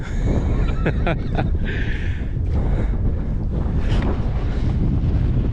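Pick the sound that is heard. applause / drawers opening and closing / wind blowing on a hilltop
wind blowing on a hilltop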